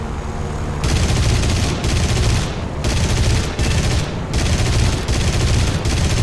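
Machine-gun fire from an enemy aircraft in the combat flight game War Thunder rattles in long, loud, dense bursts separated by short pauses, sitting close and dominating the scene with no voice over it.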